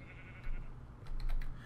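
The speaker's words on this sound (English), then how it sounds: "This room is where I placed the sheep because that was getting annoying." Sheep bleating in the video game Minecraft, short nasal bleats heard faintly and somewhat distant, mixed with soft clicks of computer keyboard typing close by.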